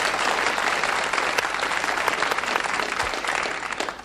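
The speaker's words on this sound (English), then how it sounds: "Round of applause." Studio audience applause for a comedian on a 1969 television comedy show, loud dense clapping that holds steady throughout and thins slightly at the end.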